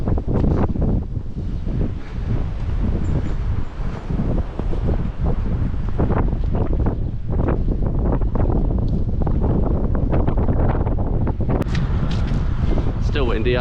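Strong wind on an exposed hill walk near Milk Hill in Wiltshire buffets the microphone in heavy low rumbling gusts, loud and continuous, with a voice speaking briefly under the roar.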